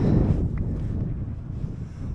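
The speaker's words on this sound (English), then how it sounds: "It's probably too windy now to pick this up" Strong wind buffeting the microphone, a constant low roaring rumble that stays loud throughout with no speech.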